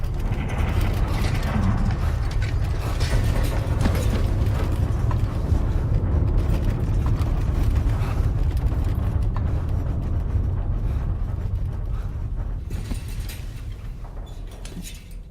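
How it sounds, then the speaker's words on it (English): A gatequake in the video game Death Stranding 2 makes a loud, sustained grinding rumble with rattling, creaking texture, holding strong before slowly fading toward the end. "That was a gatequake just now."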